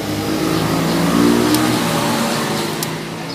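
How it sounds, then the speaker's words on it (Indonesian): Honda Beat scooter starter spinning the ACG magnet, a loud, steady electric whirring and mechanical hum held close for a few seconds, with a couple of brief sharp ticks toward the end. "Saat dipencet tombol starter, dia tuh si magnet berputar ke belakang dulu"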